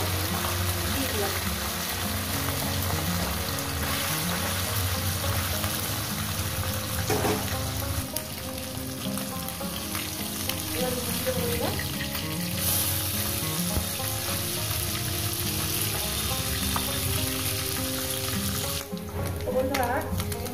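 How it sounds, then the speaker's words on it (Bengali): Bele fish fries in hot oil, a continuous close sizzle and crackle running steadily throughout, with occasional clinks and stirring noises over it. "বাদ বাকি একেবারে মাছ ভেজে নিচ্ছি।"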